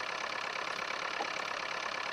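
A Fordson Power Major tractor's diesel engine idles steadily with a faint, even knocking rhythm, heard from a distance and without any talk.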